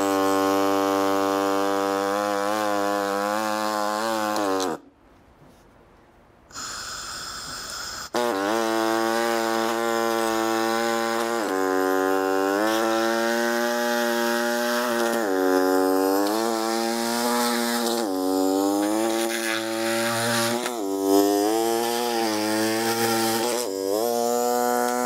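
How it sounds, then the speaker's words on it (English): A pneumatic air saw cuts plastic clips off the rear bumper trim of a Lexus GX470, giving a loud, steady buzzing whine that drops out briefly partway through and then resumes. "I'm going to be using an air saw."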